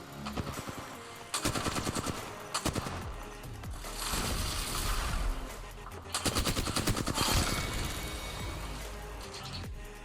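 Rapid automatic gunfire in an online shooter video game, with dense bursts of shots from players in sustained volleys and brief gaps, loud and continuous alongside game effects.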